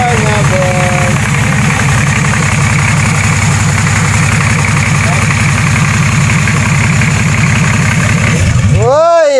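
Nissan TD42 diesel engine running with a steady loud rumble and clattering idle for most of the clip, then cutting off abruptly near the end; voices talk over it.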